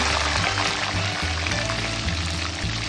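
Petai beans fry in hot oil with a dense, steady crackling sizzle that continues without a break, close and fairly loud.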